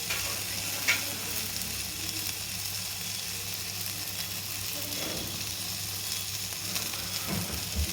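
Okra frying with sesame oilcake powder and chili powder in a pan, a constant close sizzle with a few soft stirring scrapes, steady low hum beneath, no voices.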